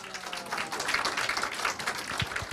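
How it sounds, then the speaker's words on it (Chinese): Audience applause breaking out at a talk event welcoming a speaker, a dense continuous patter of many hands clapping at steady loudness for a couple of seconds. "先来一个掌声鼓励他这种精神"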